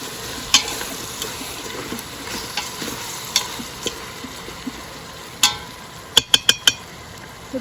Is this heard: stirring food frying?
yes